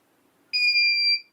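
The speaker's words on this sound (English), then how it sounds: "it starts to beep slowly when you're very slowly approaching the voltage" A single sustained electronic beep from a KK2.0 flight controller's low-voltage alarm, bright and steady, lasting about three-quarters of a second after a quiet start, then cutting off.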